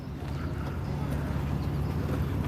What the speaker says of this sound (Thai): อ๋อนั่นรถม้านั่นไงร้อยเดียว นั่งได้สี่คนนะครับ